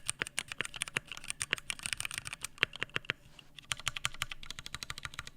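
Brisk, clattery mechanical keyboard typing, with sharp, close key clicks in an uneven rhythm and a brief pause midway.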